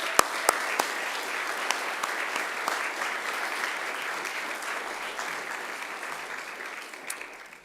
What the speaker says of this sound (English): I ask that you give them a round of applause in thanks as well.